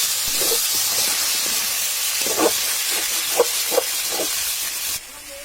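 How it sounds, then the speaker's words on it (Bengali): New potatoes fry in hot oil with a loud, steady hiss, a few soft pops and clicks rising through it before it cuts off near the end. "এখন আলুগুলো সুন্দরভাবে ভেজে নেওয়া হবে একদম নতুন আলু"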